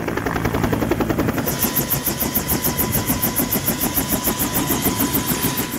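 A search and rescue team's helicopter in Mimika, Papua, starts up with a loud, steady engine roar. Its rotor beating quickly takes over as a fast, even thumping that continues to the end.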